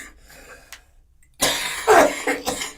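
A single harsh cough bursts out after a quiet stretch, loud and close, followed by a rough tail of throaty breath.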